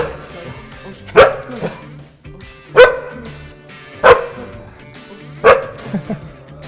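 Dog barking loudly four times at an even spacing of about 1.5 seconds, with a few quieter woofs trailing after some barks, recorded close up during a sound-level test of common sounds.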